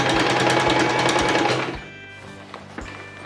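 A sewing machine edge stitching a waistband onto a gathered skirt runs in a steady, loud mechanical whir with a rapid stitch rhythm, then stops, leaving a few faint clicks and handling sounds.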